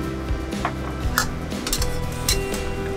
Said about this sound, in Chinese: 翻炒2下，芝麻均匀地附着在排骨上。